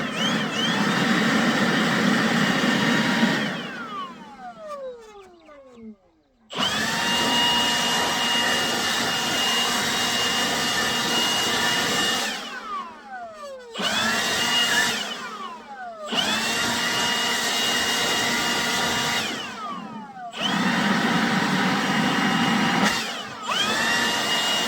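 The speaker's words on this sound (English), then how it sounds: "I've got a Milwaukee blower, and I just stuff it in there like that" A Milwaukee blower roars loud and close in long runs while clearing rocky field ground, its pitch sweeping up and down as it spins up and winds down between short silent pauses.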